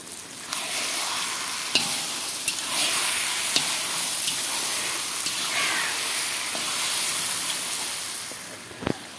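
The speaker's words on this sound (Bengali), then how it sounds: "এখানে লাউয়ের মধ্যে মাছের মাথা ঢেলে দিলাম।" Fish heads poured into bottle gourd in a pan, sizzling and frying with a continuous loud hiss and occasional clinks of a stirring utensil.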